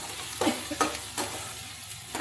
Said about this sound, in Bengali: লঙ্কা বাটা দিয়েও আবার ভালো করে আমি কষিয়ে নেব